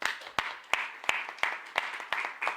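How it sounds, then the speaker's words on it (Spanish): At a book presentation of Iberian monster lore during a festival panel, a small audience claps in a slow, even rhythm with about eight distinct beats, close and moderately loud. "Y el aplauso pues para vosotros"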